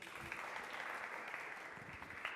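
Faint, distant applause from a studio audience at a high-school quiz show, a soft continuous patter of clapping with no talk over it.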